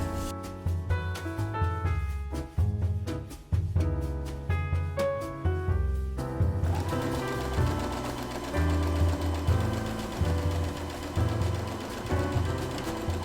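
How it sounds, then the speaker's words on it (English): Sewing machine stitching along the edge of a fabric strip, a fast rhythmic mechanical whirr of needle strokes running continuously and close, speeding into a denser hum partway through, no talking. "sew up the edge so that it looks more finished and not just like a really raw strip"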